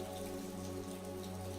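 Rain falls steadily outdoors on a dark, cloudy day, a brief continuous patter of drops on surfaces with a faint low hum behind it and no talking.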